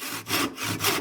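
Hand saw cutting a wedge kerf square across the end of a wooden stool leg, with about four close, rhythmic push-and-pull rasps of the blade in one second.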